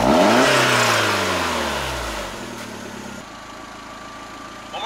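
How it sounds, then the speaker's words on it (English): Car engine revving up loudly with a rising then falling pitch, settling back toward a quieter idle over a few seconds, close and alone without talk; one of the cars is a Toyota MR2 or Nissan Cima. "All right, give me a rev."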